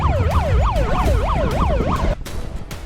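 Police siren on a bike flag march through a district in Uttar Pradesh, a loud wailing tone that rises and falls in about five quick cycles, then cuts off abruptly, leaving street noise.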